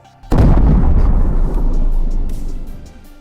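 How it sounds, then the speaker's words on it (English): The Beirut explosion bursts suddenly as a single loud blast, then rumbles on with a heavy, roaring low-end wash that slowly fades over a few seconds. "And then, the blast."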